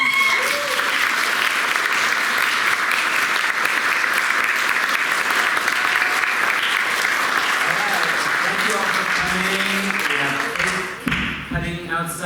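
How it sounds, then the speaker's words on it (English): An audience at a creative writing graduation reading gives a loud, sustained round of applause for graduates, dense clapping filling the room for about ten seconds before fading as voices and cheering take over. "can we give one more round of applause for the graduates?"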